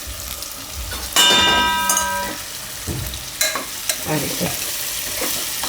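Chopped sour tomatoes cooking in oil in a pan for Gujarati pumpkin shaak: soft sizzling and close utensil scrapes, with one bright metallic ring as the pan is struck. Someone briefly speaks over the cooking.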